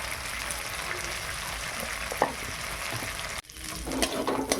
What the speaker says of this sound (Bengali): মশলাটা ভালোভাবে ভাজা হয়ে গেছে, এবারে হলুদ গুঁড়ো দিলাম